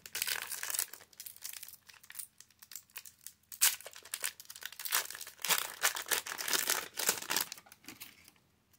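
Pokémon Obsidian Flames booster pack being torn open, close crinkling and tearing of foil in irregular bursts over several seconds, fading out at the end.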